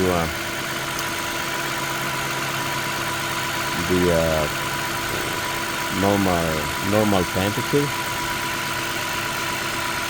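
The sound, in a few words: 2013 Toyota Sienna engine idling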